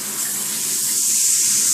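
Running water rinses shampoo off a dog during a bath, a steady close hiss of spraying and splashing water that carries on throughout with no voices.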